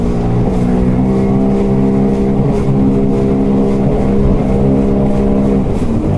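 A Sea-Doo Spark Trixx personal watercraft engine drones loudly close by, holding a strong steady roar while accelerating, with slight swells in pitch.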